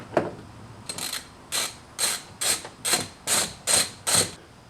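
Ratchet backing out 7mm screws from the bottom of a 2019 Mustang GT door panel: a quick initial click then eight steady, evenly spaced rasping ratchet strokes, close and alone.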